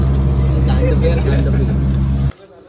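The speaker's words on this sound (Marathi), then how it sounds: "तर आमची रिक्षा बघताय, हायफाय रिक्षा आहे." An auto rickshaw engine drones loud and steady from close by during a ride, then cuts off abruptly near the end.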